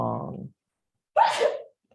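A person sneezes once, close and fairly loud, after a brief held vocal note, followed by a short silence.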